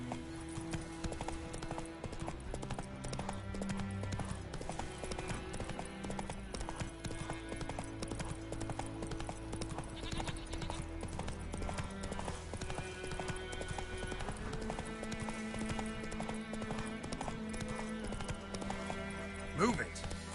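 Steady hoofbeats from the horse Roach in the video game The Witcher 3, a continuous rhythmic clip-clop under game music, with a voice briefly heard over it.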